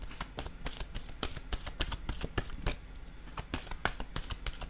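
Tarot cards being shuffled and drawn, a steady run of crisp riffling flicks and sharp card slaps close up, with no voices.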